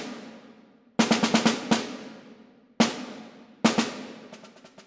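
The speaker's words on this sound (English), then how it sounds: "So if I was to play them without the Marcato accents, it would sound like this." Snare drum etude strokes played evenly without marcato accents: a few clusters of crisp hits separated by ringing decays, sounding alone and fairly close.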